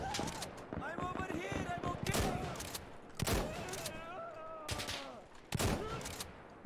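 Shotgun blasts with buckshot in the tactical shooter Insurgency: Sandstorm, three heavy booming shots spaced a couple of seconds apart, each with a sharp crack and rolling tail, over steady game noise and someone talking.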